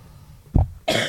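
A single cough sounds close to a podcast microphone, short and loud, followed a moment later by a second harsher burst like throat clearing, with no talking.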